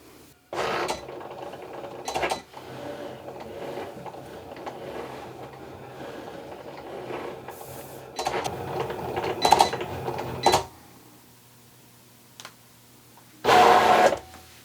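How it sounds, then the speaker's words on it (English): A Cricut cutting machine cuts heat transfer vinyl, sending out bursts of whirring and clicking motor movement between quieter pauses, close and moderately loud, with no talking. "we're going to load the material into the Cricut machine and press go to cut"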